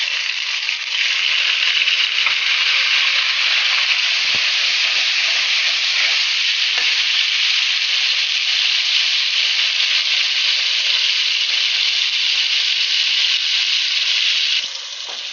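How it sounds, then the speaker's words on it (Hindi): Garlic frying with browned onions in a pan, a loud, steady, close sizzle and hiss that holds evenly for about fourteen seconds before easing off slightly, with no talking. "अब हम इसमें जो है वो गार्लिक डालेंगे।"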